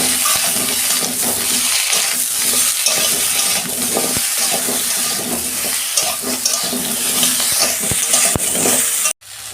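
Eggplant and potato pieces, lightly salted, frying in oil in a pan: a loud, continuous sizzle with occasional spatula taps and scrapes, cutting off abruptly at the end.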